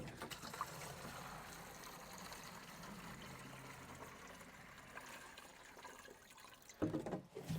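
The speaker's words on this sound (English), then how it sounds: "Now we do have to water after the sun goes down" Water trickling and splashing onto garden plants as they are watered after sundown, a soft steady flow at close range that turns louder and more splashy near the end.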